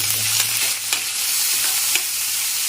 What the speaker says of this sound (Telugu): నూనె వేడెక్కింది కదండి నెత్తలు లేపుకోవాలి